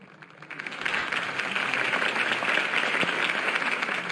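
A crowd at Harvey Dent's campaign rally in Batman: The Telltale Series breaks into applause, rising quickly from quiet into a sustained, moderately distant wash of clapping that continues to the end.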